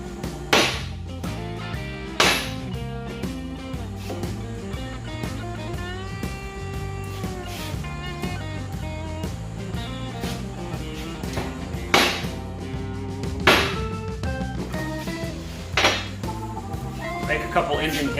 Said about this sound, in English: I'm going to just take a rubber mallet.